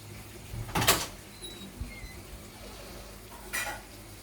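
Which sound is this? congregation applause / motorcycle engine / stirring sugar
stirring sugar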